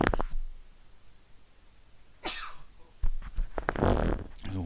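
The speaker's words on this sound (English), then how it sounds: "Quite a loud sneeze." A single loud sneeze bursts out close to the microphone with a sharp intake and explosive release, surrounded by quieter breathing and rustling.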